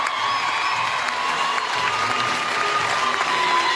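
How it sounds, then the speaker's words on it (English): A large arena crowd at a netball grand final in Brisbane applauds and cheers in a continuous dense wash of clapping with scattered whoops, heard from within the stands. "Getting a round of applause from the"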